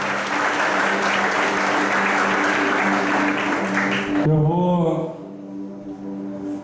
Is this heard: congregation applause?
yes